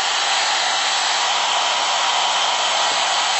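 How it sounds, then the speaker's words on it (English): A hair dryer blows loudly and steadily from start to finish, a constant close-up whoosh with no talking, used to warm a Samsung Galaxy S II motherboard during repair. "or if I'm drowning out the hairdryer"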